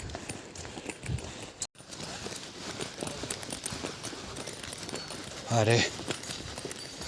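Horses clop along a mountain path in Garhwal, their hooves faint under steady outdoor noise while someone talks over them, with a brief jingle toward the end.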